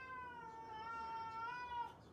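One long, drawn-out cat meow, steady and wailing, heard close in a quiet room.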